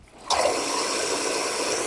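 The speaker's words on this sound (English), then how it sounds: "So you can see all that turbulence, that's all water." Water suddenly gushes in and churns turbulently while filling a bathroom sink drain and P-trap, a quiet start giving way to a steady, close rushing flow.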